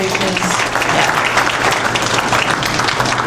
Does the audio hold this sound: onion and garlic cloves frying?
no